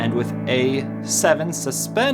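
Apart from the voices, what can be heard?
None of the usual background noises is heard.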